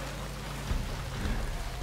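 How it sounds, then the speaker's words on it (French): Steady wash of rain in Ghost Recon Breakpoint, a dense hiss with low rumbling underneath, continuous and fairly close, with no voices. "Il pleut."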